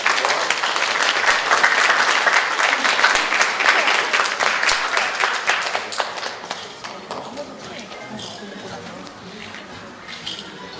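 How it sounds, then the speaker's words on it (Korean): Brisk clapping from the audience at a hair show demonstration greets the model, crisp and thick at first, then thinning out toward the end as voices come in. "모델분한테 박수 한번 보내주세요."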